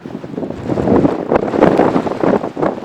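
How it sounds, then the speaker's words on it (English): Strong wind buffets the microphone on an upland mountain walk with a continuous low roar that surges and gusts throughout. "It is still incredibly windy"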